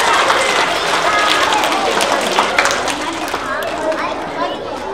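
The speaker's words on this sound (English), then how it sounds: "How about a nice round of applause for my friends who are going to come up?" Schoolchildren applauding at a school fire safety assembly, with a busy, steady wash of clapping and crowd chatter throughout and voices mixed in.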